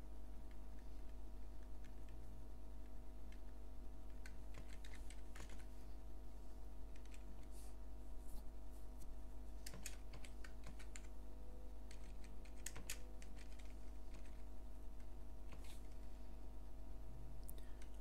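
Steady, close computer-keyboard typing as a program is entered, with irregular clusters of light key clicks over a constant low hum and no voices.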